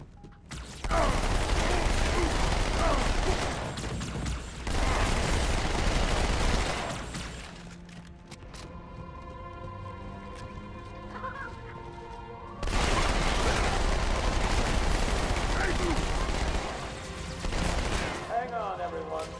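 SMG fire in Halo 2 comes in long, dense, rattling bursts at close range, two sustained stretches separated by a quieter pause with mechanical hum and a few chirping effects.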